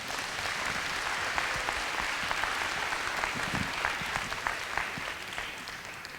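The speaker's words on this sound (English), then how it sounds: "So we're going to give Bob a big round of applause" A school audience gives a sustained round of applause at a recycling event, dense steady clapping from many hands filling the room at an even level for the whole stretch.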